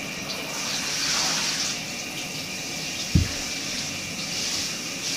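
Tap water runs steadily into a tub for an American Bully dog's bath, a soft continuous rush with one brief knock partway through and no talking.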